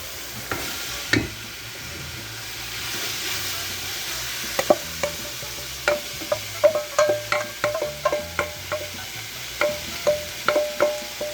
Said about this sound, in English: Time to get all that onion in there.